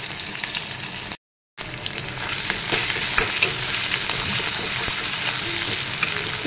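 Onion and crushed garlic fry in hot oil in a wok, a loud continuous sizzle with stirring clatter that drops out briefly near the start, then resumes steadily, with no talking.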